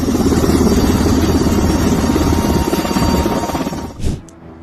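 A helicopter refueling in mid-air drones with a loud, steady rotor and engine roar that fills the whole stretch before cutting off abruptly near the end.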